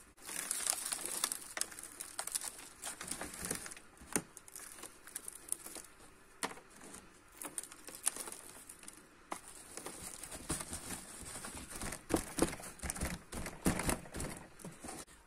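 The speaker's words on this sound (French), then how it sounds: "je vais rajouter du terreau par-dessus" Potting compost scattered by hand over sown bean seeds in pots, a steady close sequence of soft gritty rustles and patters, fairly quiet, with no voices.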